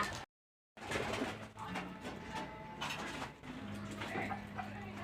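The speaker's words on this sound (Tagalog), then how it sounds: "Papakawala niya na daw yung mga kalapati niya." Pigeons coo in low repeated calls at a pigeon loft, quiet and close, with a brief silent gap near the start and faint background noise.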